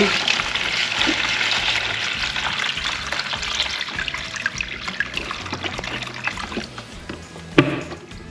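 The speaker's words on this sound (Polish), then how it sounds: "tutaj odleję wodę" Water poured out of a small aquarium fish container into another tub, a steady splashing, running flow that lasts several seconds at close range and fades near the end, with no talk over it.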